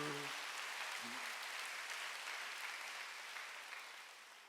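A church congregation applauds in a sustained wash of clapping that fades slowly toward the end. A brief voice is heard at the start.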